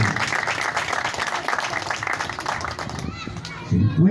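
A crowd at an outdoor street-naming ceremony applauds for a fire department director, a dense wash of clapping with children's voices mixed in, fading near the end as a voice rises.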